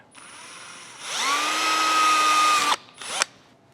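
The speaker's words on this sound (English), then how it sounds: "you set that in your piece to be drilled. Drill on the mark" A power drill drilling a pilot hole for a light mount whines up to a high steady spin for a couple of seconds, winds down, then gives a short second burst, close and loud.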